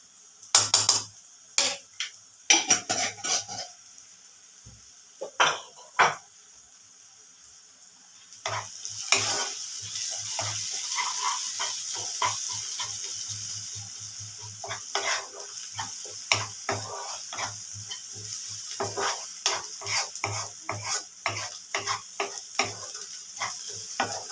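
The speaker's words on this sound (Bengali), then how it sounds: "বেশ ভাজা হচ্ছে, দেখেছেন বেশ সুন্দর কিরম ভাজা হয়ে এসছে।" Potato filling for aloo paratha, seasoned with cumin powder, sizzles steadily in a hot pan while a spatula scrapes and clatters in repeated stirring strokes, close up and without talk.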